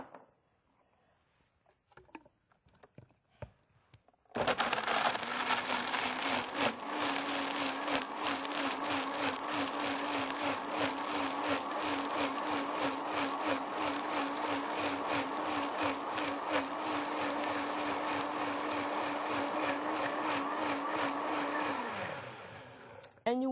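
A kitchen blender runs on onions, dates and sun-dried tomatoes. After a few quiet seconds it roars on at a loud, steady motor whine with rhythmic chopping pulses for about eighteen seconds, then winds down and stops.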